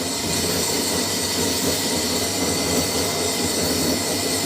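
A pellet mill granulator runs continuously while making animal feed, a loud steady mechanical rumble and whine with a rhythmic churning texture, no talk.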